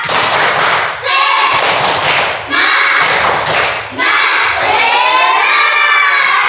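Fourth-grade elementary schoolchildren in an Indonesian classroom perform the tepuk semangat clapping chant, loud group bursts of rhythmic claps and shouted chanting in three surges separated by short pauses, with children's voices throughout.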